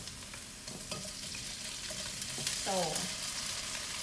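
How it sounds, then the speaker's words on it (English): Tofu fries in a pan for a vegan zucchini pad thai, a soft continuous sizzle with a few stirring scrapes, faint and close, with a brief spoken word. "Also can fry the tofu first if you want tofu to create a nice color."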